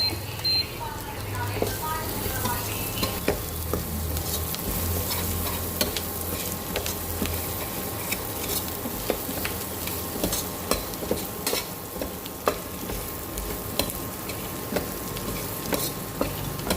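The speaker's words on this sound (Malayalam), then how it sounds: "ഉള്ളി ഒന്ന് വഴന്ന് വരുമ്പോൾ 2 തക്കാളി ഇടുക. തീ കുറച്ച് വെക്കുക." Steady close sizzling of onions and tomatoes frying in a pan over low heat, with frequent scraping and clicking as a utensil stirs them.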